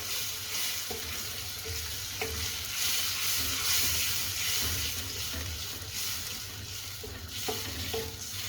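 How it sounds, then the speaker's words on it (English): Balti sauce made with chopped tinned tomatoes bubbles and sizzles gently in a pan as a spoon stirs through it, with a few soft knocks and scrapes over a steady, quiet hiss. "And that's going to have a good stir now"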